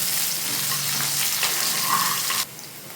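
Onions fry in a pan for jackfruit sambar, giving a steady close hissing sizzle that suddenly fades to a quieter level near the end.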